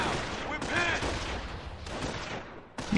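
Machine gun fire in a World War II real-time strategy match featuring Panzer Elite forces: dense, rattling bursts and distant booms of battle under a continuous commentator's voice, loud and sustained throughout.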